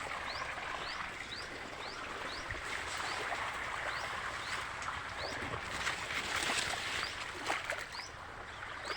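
Irrigation water flowing into a maize field, a soft steady trickle and gurgle of running water outdoors, with repeated faint bird chirps above it and no talking.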